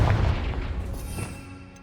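A Confringo fire spell blast in Hogwarts Legacy, a loud close boom with heavy low rumble at the start that decays over about two seconds.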